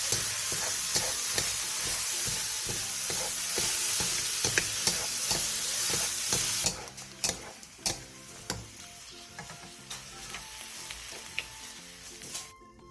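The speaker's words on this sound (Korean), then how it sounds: "굴소스 1스푼 반을 넣고 중불로 줄여 버섯에 숨이 완전히 죽을 때까지 볶아주세요" Mushrooms stir-frying with oyster sauce in a pan hiss loudly at first, then the sizzle drops to a quieter crackle once the heat is lowered to medium, with repeated spatula taps and scrapes throughout.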